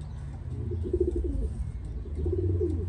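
A racing pigeon coos inside its loft: soft, low, rolling calls repeat close by in two bursts over a faint steady background, with no speech.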